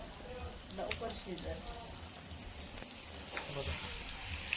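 Tamboshi fish, scaled and cleaned, frying in a generous amount of oil, giving a steady broadband sizzle that runs the whole time with some voices in the background.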